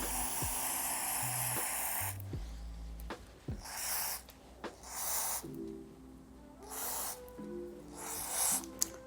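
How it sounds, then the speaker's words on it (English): A hydrating face mist from a Style Bar spray bottle gives several short, soft hissing bursts, spaced apart and close to the ear, between quieter moments. "I'm using this Style Bar spray."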